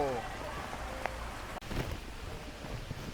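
Soft rain falls steadily on a zoo in Chiang Mai in a constant gentle patter, with a brief faint voice and a small knock partway through.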